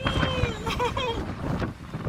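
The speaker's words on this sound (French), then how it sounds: "regardez le vent" Strong wind buffets the microphone outdoors in a steady, loud roar with gusty swells, under what sounds like faint background music.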